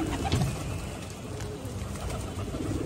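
A Kasni Dabbu Pilga pigeon coos softly, kept among fancy pigeons, its low murmuring calls partly buried under steady broadband background noise.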